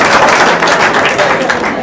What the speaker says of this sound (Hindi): आपने ताली बजा दी, मेरी बात खत्म नहीं हुई।